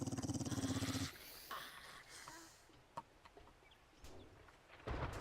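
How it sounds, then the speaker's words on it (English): A dog in the survival game 7 Days to Die, heard as a low growl and a few scattered barks at middle distance, mixed with rumbling ambience and other faint game noises. "Hear a dog somewhere."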